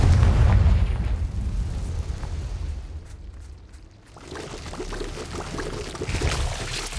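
A Confringo blasting spell goes off in Hogwarts Legacy, a loud, deep explosive boom at the start that rumbles and fades, followed by lighter crackling game effects and a swelling rumble toward the end.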